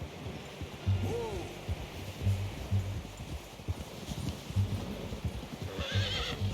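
A horse in Red Dead Redemption 2 whinnies twice and its hooves clop steadily on the ground, with a low rhythmic stomping under a busy game soundscape.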